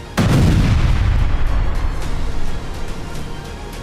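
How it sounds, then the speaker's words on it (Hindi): A missile strike explosion from an Israeli Air Force attack in Gaza: a sudden loud blast hits at once, then a heavy rumbling roar slowly trails off over a few seconds. "इजरायली एयरफोर्स ने उन्हें लोकेट किया और फिर मिसाइल मारकर खत्म कर दिया।"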